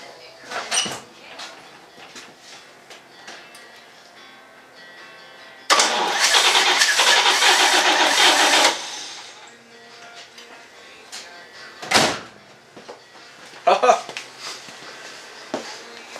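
A 1952 Chevy Styleline with a 216/235 inline-six, freshly valve-adjusted, cranks and briefly catches in a loud burst of engine noise that cuts off, with quieter clunks and a voice around it.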